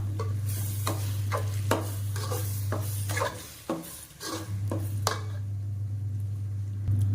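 Wet, squishy stirring of yogurt into a rice mixture for vegetable biryani in a pot, irregular scrapes and soft thuds over a steady low electrical hum.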